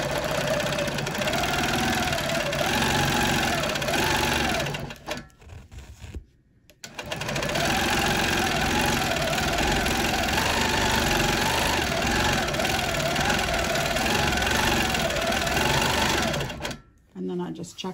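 A sewing machine running steadily close by, stitching a free-motion quilting pass on scrap fabric to check thread tension. The loud, even mechanical whirr pauses briefly twice before starting again, and no one speaks over it.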